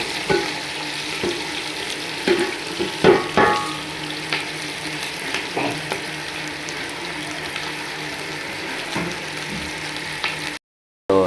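Sliced onions and green chillies frying in about 200 ml of hot oil for mutton boti gravy, with a continuous bubbling sizzle and occasional stirring scrapes, fairly quiet and close, no voices.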